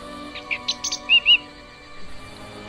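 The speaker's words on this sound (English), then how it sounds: "I would like this bird to be more useful." Cheap Cheap, a cartoon bird in the adventure game Book of Unwritten Tales, gives a short run of bright chirps and tweets, ending in two louder clear calls over a quiet background hum.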